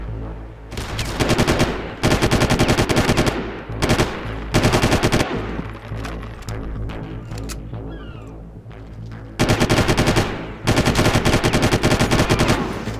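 Automatic gunfire from the Far Cry video game rattles in long, loud bursts that stop and start, separated by quieter stretches of game ambience.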